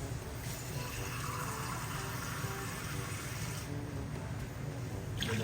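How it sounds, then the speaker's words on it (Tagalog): Water poured steadily into a cooking pot of chicken kinamatisan, a continuous close rushing flow without pause. "maglalagay na rin tayo ng water. Ito tayo ng tubig."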